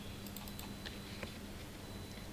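Computer keyboard keys are pressed, including Enter, while drafting a floor plan in AutoCAD. A few faint, separate clicks sit under a steady, loud background hiss.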